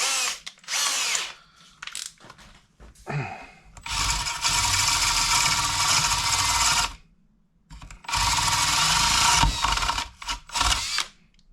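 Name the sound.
drilling with a countersink bit on motorcycle exhaust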